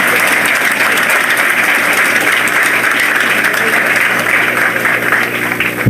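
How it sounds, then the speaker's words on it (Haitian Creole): Sustained, loud applause from a large crowd at a ceremony honoring new police officers, a dense steady roar of clapping that continues unbroken for several seconds. "Nous demandons un applaudissement encore pour les nouveaux policiers."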